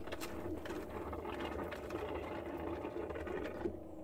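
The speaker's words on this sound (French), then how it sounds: "Je vais retourner à l'intérieur de la roulotte pour activer la pompe de la toilette." The toilet pump in a Prolite travel trailer runs with a faint, steady mechanical whir and rapid buzzing chatter, continuous from start to finish with no voices.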